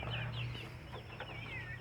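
Free-range village chickens on a smallholder farm clucking close by, several overlapping soft clucks and trilling calls over a low steady hum, no talking.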